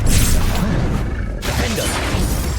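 Bombarda blasting spell in Hogwarts Legacy erupts in a loud, dense crash and booming blast amid continuous battle effects, with a brief dip before the noise surges again.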